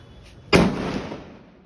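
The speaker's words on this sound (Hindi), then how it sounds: "इसका धमाका बहुत लाउड है यार" A large Diwali firecracker goes off with a single sharp, heavy bang that rolls into a fading rumble, fairly close and loud against quiet outdoor background.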